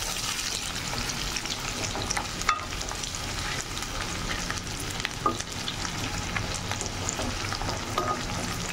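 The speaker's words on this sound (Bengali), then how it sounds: "এটা একটু ভেজে নিই।" Vegetables with dried shutki fish fry in a pan, making a continuous close sizzle broken by occasional scraping stir knocks. No one speaks.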